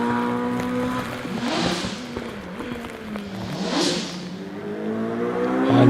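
Pulsar front-engine kit car accelerating hard up a hillclimb course at Doune, its engine revving and rising through the gears, loud and close, with no talk over it.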